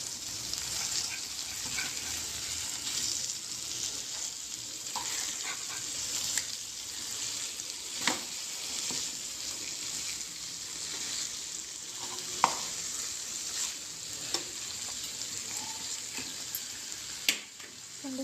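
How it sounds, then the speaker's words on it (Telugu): King fish pieces fry in green masala in a pan over low heat, giving a continuous bright sizzle with occasional sharp pops and faint clinks, steady and close throughout. "ఒక 5 నిమిషాలు బాగా యాగనివ్వాలి, సిమ్లో పెట్టి యాగనివ్వాలి"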